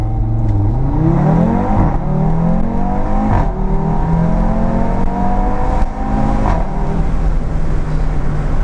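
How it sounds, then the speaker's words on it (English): Audi RS3 saloon with sports exhaust, a loud continuous engine and exhaust note while driving, rising and falling through revs with brief dips at gear changes, close and alone without talk. "And it makes the exhaust noise twice as loud."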